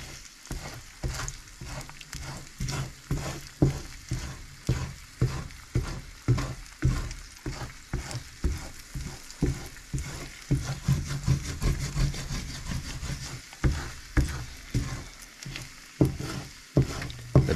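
Eggs frying in an overheated cast iron pan, a loud steady sizzle broken by rhythmic scraping strokes, close and continuous with no talking.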